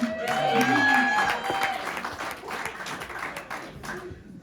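A comedy show audience in Kenai claps for the front row. The applause is moderately loud and steady, and a voice and some tonal sound briefly overlap the start before the clapping carries on and fades slightly.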